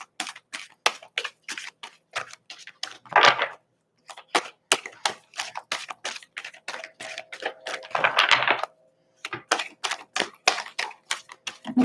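Tarot cards are shuffled by hand in quick, crisp bursts of riffling clicks and slaps, coming close and clear in uneven runs with short pauses between them.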